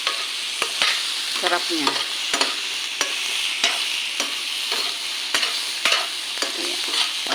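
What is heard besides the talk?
stirring prawn sinigang in the pot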